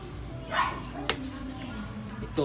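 A dog gives a few short yips and whimpers close by, with a brief bark near the end, over low background noise.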